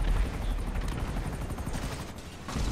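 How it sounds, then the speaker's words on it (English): Helicopter in Grand Theft Auto V, a loud, steady rotor roar with rapid chopping pulses, close by and continuous throughout. "You mowed me down again with a chopper."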